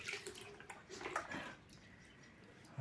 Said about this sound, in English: we have to wash it with water.